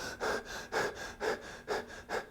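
A voice imitates panting, out-of-breath breathing: five rhythmic, breathy huffs at an even pace, close and moderately loud, with no talk.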